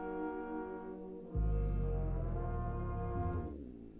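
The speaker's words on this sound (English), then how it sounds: "Descending slide bass there," Synth bass in a piece of music, a deep buzzing tone that slides downward and then holds, loud and sustained before fading out, with no voices.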